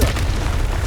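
The Confringo explosive spell in Hogwarts Legacy bursts as a single short, loud blast with a deep booming low end that fills the brief moment.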